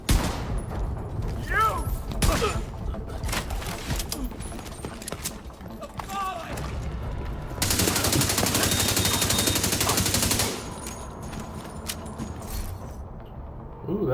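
Pistol gunfire in a video game, rapid repeated shots crackling through a busy mix with a sustained dense burst in the middle, while someone talks over parts of it.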